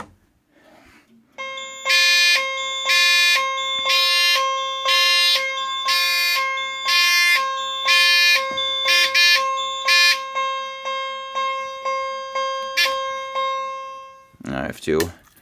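A Simplex fire alarm system, set off from a pull station, sounds a loud electronic horn in repeated evenly spaced bursts that quicken into a few short pulses, then stops and is followed by a brief rustle.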